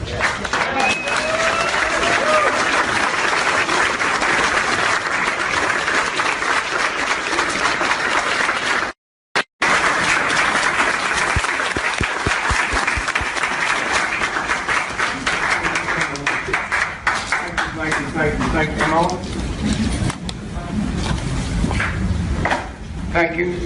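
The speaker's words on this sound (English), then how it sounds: "give a resounding round of applause and a standing ovation to the Honorable Dick Gregory" Sustained audience applause and standing ovation at a Dick Gregory appearance in 2017, loud, dense clapping from a large crowd with a brief cut partway, voices and cheers mixed in, then clapping thinning toward the end.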